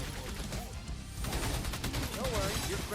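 Steady rapid gunfire in the Orcs Must Die: Deathtrap video game as waves of enemies are shot at, a dense loud fusillade with crashing impacts throughout.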